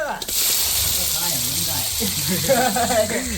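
Ginger paste and sliced chillies frying in a pan for bread kothu, a steady loud sizzle and hiss running throughout, with a person talking over it.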